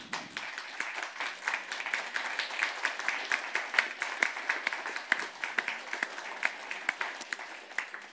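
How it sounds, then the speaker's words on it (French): Sustained audience applause at a conference by Dr Pierre Gilbert, many hands clapping steadily for several seconds at a moderate, slightly distant level. "C'est vous tous, c'est nous tous qui nous applaudissons."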